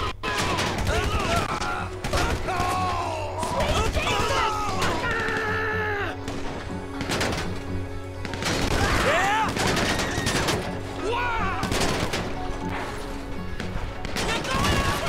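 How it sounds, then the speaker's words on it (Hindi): Rapid bursts of gunfire in Grand Theft Auto V crackle repeatedly amid layered synthetic effects and background music, with a voice talking over parts of it. "गोलियां मारे जा रहे"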